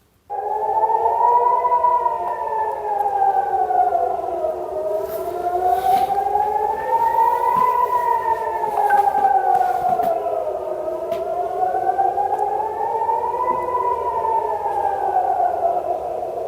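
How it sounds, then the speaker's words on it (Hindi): Loud, steady air raid sirens wail continuously at a largely empty Ben Gurion Airport, their pitch slowly rising and falling in long sweeping cycles. "यहां पर फिर से वैसे ही सायरन बज रहे हैं"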